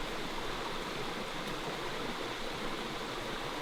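A jungle river flows in a steady, dense rush of water, close and unbroken, with no voices.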